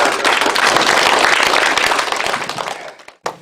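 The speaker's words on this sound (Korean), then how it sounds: "둘, 셋. 박수!" Audience at a community event in New Zealand breaks into applause on cue, a dense continuous clapping that holds steady for about three seconds before fading out.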